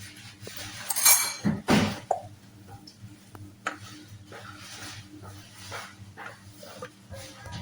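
Pandesal dough is mixed in a bowl, giving a few sharp clinks and scrapes of a utensil against the bowl, loudest early on, then softer irregular taps and squishing sounds close by.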